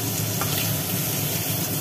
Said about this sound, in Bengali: চিংড়িগুলো তুলে নেওয়ার পর তেলের মধ্যে পড়ে গেল আলু।